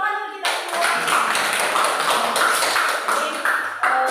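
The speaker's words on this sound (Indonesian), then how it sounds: "Tepuk tangan untuk kita semua." Teachers at a workshop meeting on positive discipline break into a burst of hand clapping after a brief quiet moment, sustained and fairly close for a few seconds before tapering.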